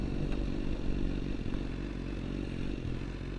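A motorcycle out on its first ride of the year holds a steady, rumbling engine drone at cruising speed, loud and continuous, with rattly road and wind noise and no talking.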